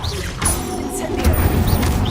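Incendio fire spell cast in a video game: a loud roaring whoosh with crackling bursts and a thudding impact midway, sustained and dense throughout.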